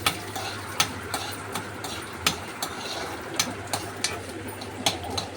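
Mustard seeds and a few fenugreek seeds tempering in hot oil for a bhindi and chana dal fry, giving a faint steady sizzle with sharp crackling pops and light stirring clicks, with no voices.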